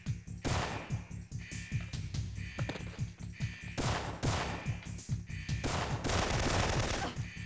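Rapid bursts of automatic gunfire from the video game Syphon Filter 2, set in a Siberian prison, loud and dense with repeated volleys and sharp impacts across the whole stretch.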